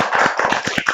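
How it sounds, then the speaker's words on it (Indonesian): Short burst of applause from a seated audience at an Indonesian discussion workshop, several hands clapping in quick uneven bursts, close and moderately loud. "kita beri tepuk tangan dulu untuk kita semua"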